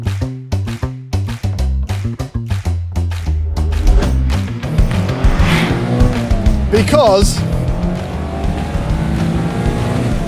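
A refreshed 2024 Mazda MX-5's 181-horsepower naturally aspirated four-cylinder, which revs to 7,500 RPM, blips in sharp repeated bursts and then pulls into a long, loud climbing rev with tire squeal, with a voice briefly audible.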